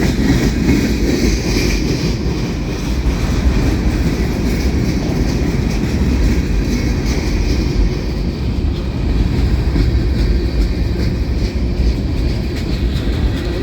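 A Union Pacific manifest freight train rolls past a lunar signal on a rainy day, a loud, steady rumble of wheels with rhythmic clicking and faint squeals over many seconds, no voices.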